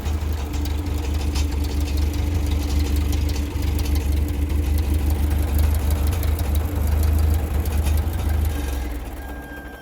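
A Ferguson 35 tractor engine runs at a steady, loud idle right up close, with a low chugging rumble that holds for almost ten seconds before it eases slightly at the end.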